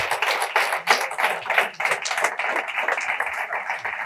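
A church congregation applauds, a dense, steady wash of many hands clapping, loud and continuous throughout with no talk over it.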